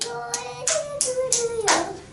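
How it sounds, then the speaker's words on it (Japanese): Hands clap in time for a children's frog-song rhythm exercise, about five or six crisp claps at an even pace, close and clear, with a sung or hummed tone running underneath. "カエルの歌を手拍子しながら歌いましょう"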